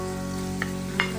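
Sliced tomatoes landing in a hot, sizzling pan, a quiet continuous fry with two brief sharp crackles as pieces hit the oil and are stirred, no voices.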